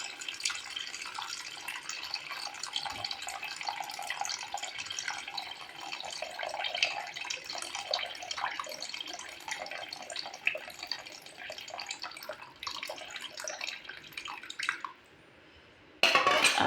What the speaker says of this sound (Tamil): இந்த டைமில் நம்ம புளி தண்ணி சேர்த்துக்கலாம்.